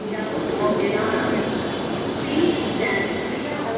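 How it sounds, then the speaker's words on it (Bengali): A Dhaka metro rail train pulls into Karwan Bazar station with a steady, loud mechanical rumble and hum, heard close on the platform without any clear break or pause. "প্রথম ট্রেনের পরে প্রায় 13 মিনিট পরে এই কাউরান বাজার স্টেশনে এসে পৌঁছালো দ্বিতীয় ট্রেনটি"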